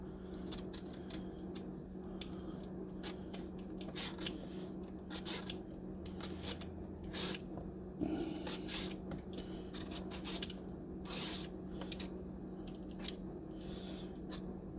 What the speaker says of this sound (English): I'm going to peel the eggplant